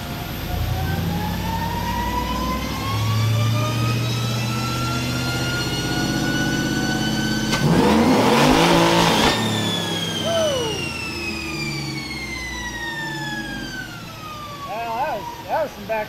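A Chevrolet Trailblazer SS engine revs freely on a dyno with no load, its pitch climbing steadily, then it bursts into a brief loud roar before the tone sweeps back down. The sound is close and continuous, with some background voices.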